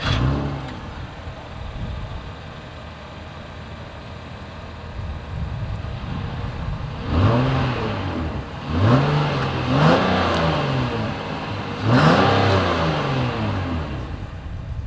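A 2023 Acura MDX exhaust revs up three times in close succession from a steady idle, each rise swelling loud and dropping back, with the idle rumble continuing between blips.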